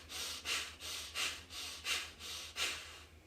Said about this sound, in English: Breathe in for 2 seconds, breathe out for 2 seconds, or 1 second